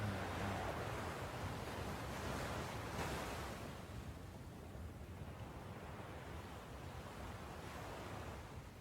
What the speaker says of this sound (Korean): 아, 이 파도 소리 너무 좋다.